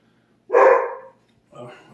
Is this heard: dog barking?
yes